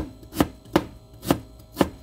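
A knife chops radish on a cutting board: four crisp, evenly spaced chops, close and clear, with no talking.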